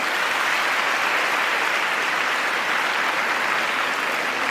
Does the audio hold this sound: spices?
no